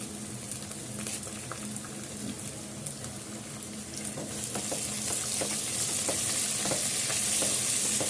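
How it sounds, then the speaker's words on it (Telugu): Curry leaves tossed into potatoes and eggs frying in a pan for an egg aloo curry set off a steady sizzle that grows louder and brighter, with stirring scrapes and no talk. "ఇప్పుడు దాంట్లో ఒక 3 రెమ్మలు కరివేపాకు వేసుకుందాం."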